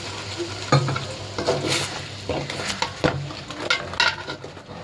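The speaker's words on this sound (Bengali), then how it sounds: "এবার একটু মতো জল ঢেলে দিচ্ছি" Water poured into a hot pan of masala chicken cooking in oil and onion, giving loud bursts of sizzling and hissing along with stirring and scraping of a utensil against the pan.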